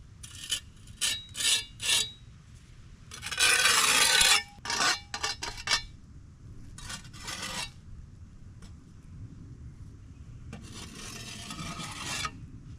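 A trowel scrapes excess mortar from the joints of a concrete block wall in a series of short rasping strokes, with one longer, louder scrape in the middle, close up and with no talking.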